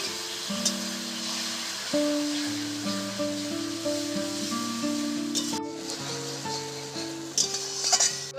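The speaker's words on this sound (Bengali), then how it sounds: "এই মশলার সাথে পুড়িয়ে চটকে রাখা আমটা এবার দিয়ে দেবো।" Roasted, mashed raw mango going into a pan of sizzling spices for a fish curry: continuous frying sizzle with a brief clink and a sharper burst of spitting near the end, close and moderate, alone without speech.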